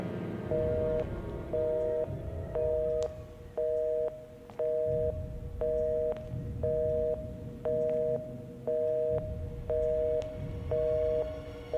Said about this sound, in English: I start hearing something that sounded like a phone.